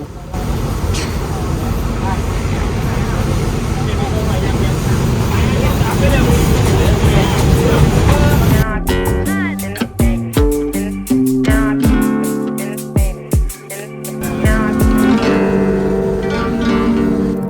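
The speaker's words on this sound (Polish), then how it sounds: "Jedziemy traktorem." Riding aboard a tractor in Ayutthaya, Thailand, a steady engine drone and rattle fills the first half, then gives way to clanking and jolting mechanical noise with uneven dips, close and continuous.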